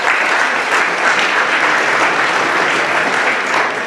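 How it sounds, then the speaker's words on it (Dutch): Warm closing applause from an audience at a digital marketing talk evening, dense continuous clapping, loud and close, lasting throughout without speech. "Dus nogmaals een hartelijk applaus"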